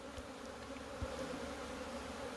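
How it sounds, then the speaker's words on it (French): Bees swarming around their hives in winter, a steady low droning hum, fairly faint and continuous with no voices. "On va aller voir ce que ça peut donner au niveau des ruches, au niveau de l'effervescence."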